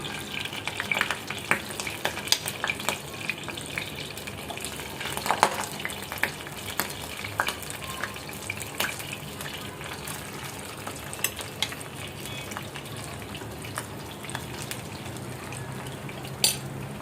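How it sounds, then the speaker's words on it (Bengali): Pakoras frying in a little hot oil in a pan give off a steady sizzle, with occasional clinks of a utensil stirring and turning them. "আমি অল্প তেলেই ভাজবো"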